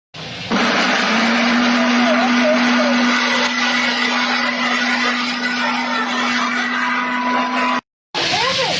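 A mixer grinder whirs loudly and steadily as it grinds mustard, poppy seeds and tomatoes, a continuous close motor drone that breaks off briefly near the end before starting again.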